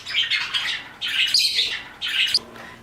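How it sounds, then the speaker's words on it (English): Pet cockatiels and a canary squawk loudly in an indoor bird room, harsh repeated calls coming in close bursts with short pauses between. "So I let out all my cockatiels."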